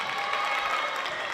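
A high school student section at a girls' basketball game cheers and claps continuously, a dense, steady crowd roar heard at moderate distance.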